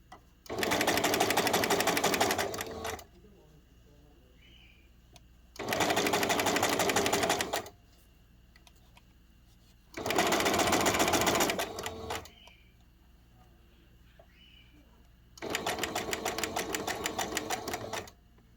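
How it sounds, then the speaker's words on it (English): A sewing machine stitches fabric close to the edge in four loud, rapid bursts of even mechanical whirring, separated by pauses of near quiet with faint handling sounds. "I'm going to start there at the dot in the back stitch, and I'm going to sew pretty darn close to the edge in between."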